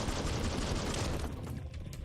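Dense, continuous gunfire from the Biomutant video game, a loud rattling fusillade with booming low end that thins slightly toward the end.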